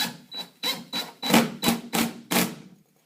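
A drywall screw is driven into backer board to hold a drywall patch, giving a close series of about seven sharp rasping bursts in a steady rhythm, with a faint whine running under the first few.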